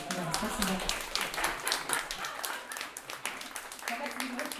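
Applause breaks out from an audience on stage after an awkward pause, a dense patter of clapping carried along with a voice speaking on top.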